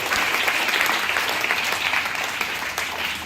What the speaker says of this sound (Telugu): గట్టిగా అమ్మాయి చప్పట్లు.